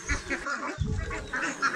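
Ducks quacking near the camera as they eat, with repeated short nasal calls that overlap in irregular bursts over steady farmyard background noise.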